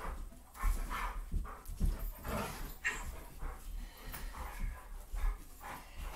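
Dogs bark and pant nearby during a home workout, with yips, whimpers and heavy breathing overlapping in a busy, continuous stretch, no talk.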